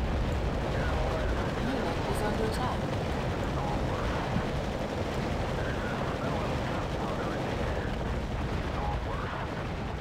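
Howitzer artillery fire in the Act of Aggression real-time strategy game, a dense, continuous rumble of distant booms and blasts that stays loud for the whole stretch, with faint voices underneath.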